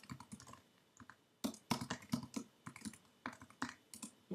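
Quick, uneven typing on a computer keyboard, with bursts of sharp key clicks and brief pauses, close but quiet and without talking.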